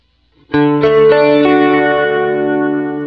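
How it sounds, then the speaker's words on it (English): A bright synth note from a Kurzweil KSP8 swells in with rich stacked overtones, then further notes join and sustain under a swirling, whooshing flange and pulsing pulsar modulation. "here is the synth pulsar and flange together"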